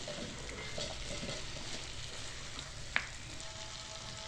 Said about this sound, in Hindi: सब्जी को अच्छी तरह मिक्स कर लेते हैं मसाले में।